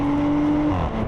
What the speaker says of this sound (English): exhaust pop on the upshift